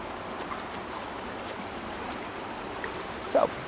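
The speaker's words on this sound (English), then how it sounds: "I do sincerely hope that the creek isn't too loud" A creek flows steadily nearby, a continuous soft rushing wash that holds at an even level throughout, with one brief faint splash near the end and no speech.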